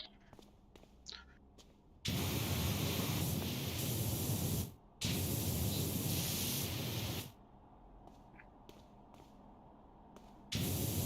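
A pressure washer spraying in PowerWash Simulator while a bike is cleaned: loud, steady hissing bursts of spray that start and stop, with a short gap between them, and quiet stretches in between.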